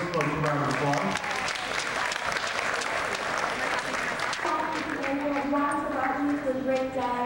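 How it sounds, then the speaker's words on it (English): An audience applauds the SGA advisors and student members at a school gathering, with dense, steady clapping throughout and voices and cheering mixed in over it. "So let's give all those folks a round of applause."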